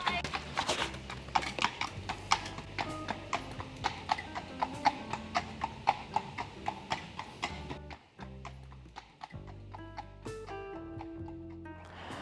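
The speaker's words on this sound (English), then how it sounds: "And horses going past like last time we were here." Several horses clip-clop steadily past on Beacon Hill, a regular run of hoof strikes loud at first and easing toward the end, with voices and a brief whinny mixed in.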